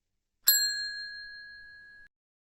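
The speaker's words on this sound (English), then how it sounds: "ring the bell so you never miss an update" A single bright notification-bell ding rings out clearly on its own, sustaining and slowly fading for about a second and a half before cutting off into silence.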